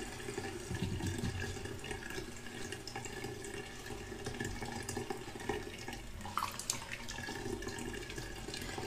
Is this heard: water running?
yes